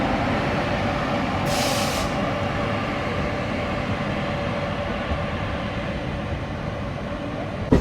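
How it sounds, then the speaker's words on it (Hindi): The Gwalior Barauni Mail pulls out of Jhansi railway station with a steady, broad rumble of the train rolling past, and a brief hiss of air partway through, with no talking. "तो अपनी ग्वालियर बरौनी मेल निकल चुकी है झांसी रेलवे स्टेशन से।"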